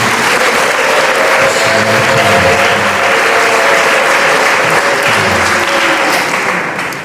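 A church congregation claps loudly together in sustained, dense applause that carries on evenly before tapering slightly at the end.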